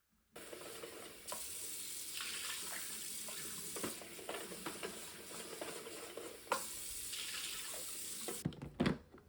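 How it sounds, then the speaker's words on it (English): The dirty tank of a carpet extractor is rinsed out under a running stream of water that splashes and hisses continuously, with sloshing and knocking against the plastic, and one louder clatter near the end. "The dirty tank then gets emptied and rinsed out thoroughly"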